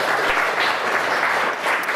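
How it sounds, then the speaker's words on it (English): A dense burst of applause from a trivia night crowd, steady clapping filling the whole moment. "give yourselves a round of applause."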